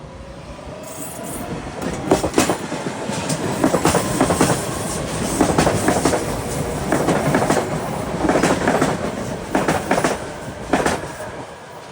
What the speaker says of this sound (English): So here comes a Philadelphia bound train.